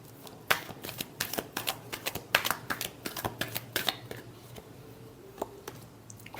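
Tarot cards are shuffled by hand in quick, crisp riffling flicks, a dense run of close papery snaps lasting several seconds, with a voice speaking briefly nearby.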